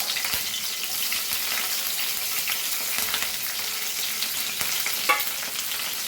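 Curry leaves and green chilies sizzle and crackle in hot oil over a low flame, with a steady close frying hiss and small pops, including a sharper spatter near the end.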